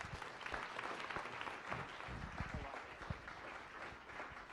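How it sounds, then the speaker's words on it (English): Audience applause for guests at a Science Cafe event, a steady wash of many hands clapping throughout, moderately loud and continuous with scattered sharper individual claps. "Let's give our guests a round of applause again."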